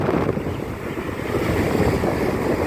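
Rough surf from Hurricane Michael pounds the beach at Stump Pass in Englewood, Florida. Heavy wind buffets the microphone, and the crashing waves form a loud, continuous roar.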